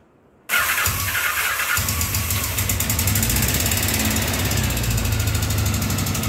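A Honda Nighthawk parts motorcycle engine cranks briefly and then catches, settling into a loud, continuous running rumble.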